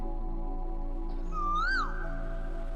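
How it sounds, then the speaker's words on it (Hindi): A koel gives a single rising-then-falling whistled call, clear but distant, over a steady low hum. "कि जैसे कोयल दूर से बोल रही है।"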